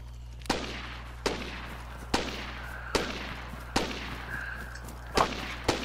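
Gunfire in a military shooter video game: about eight single sharp shots spaced roughly a second apart, each with a short echoing tail over a steady low hum.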